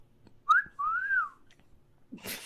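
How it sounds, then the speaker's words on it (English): A person whistles two clear tones, a short rising note and then a longer arched one, close and fairly loud in a quiet space, ending with a soft breathy rustle. "I want to try and whistle back at it."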